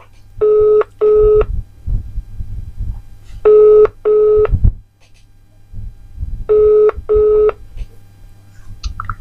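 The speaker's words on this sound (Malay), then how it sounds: "Kita try call orang lain pula." A phone dials and a call rings through: three pairs of loud, clean electronic ringback tones repeat with pauses between them, with faint background noise and brief soft sounds between the tones.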